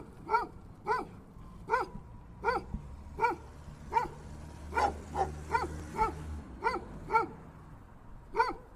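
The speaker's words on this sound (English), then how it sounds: "Yep, that's dog." AI-generated dog barking: a steady series of about a dozen single barks at a roughly regular pace, moderately close and clear, with a low rumbling background between them and no talking.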